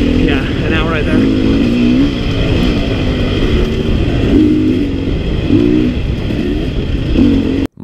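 A Sherco 300 two-stroke trial motorcycle revs and rides along a trail, its engine blipping up and down in repeated bursts, loud and close throughout, with a rider talking over it.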